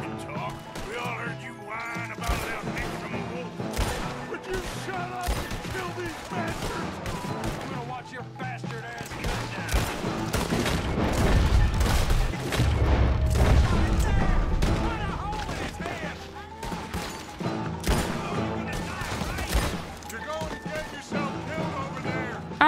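Gunfire in a Red Dead Redemption 2 shootout rings out amid a busy mix of music and other game sounds, with a heavier stretch of firing in the middle. Voices talk over parts of the fight.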